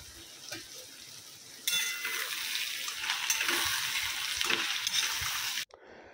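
Two bay leaves dropped into hot oil for home-cooked mutton, a loud sustained sizzle that starts abruptly after a quieter background and cuts off sharply at the end.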